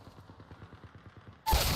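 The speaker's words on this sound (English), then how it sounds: "Oh wow, that's a sniper." In a video game, quiet rhythmic ticking gives way to one sudden, loud sniper rifle shot that rings on sharply to the end.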